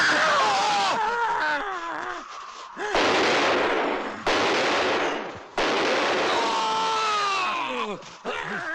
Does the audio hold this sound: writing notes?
no